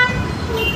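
A single-wheel electric vehicle's horn gives a short, close, tonal toot lasting under a second, with faint street noise behind it.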